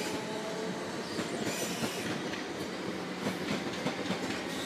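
A Class 455 electric train pulls out of Clapham Junction toward London Waterloo, its steady rumble and wheel noise filling the scene with faint squeals and rail clatter throughout.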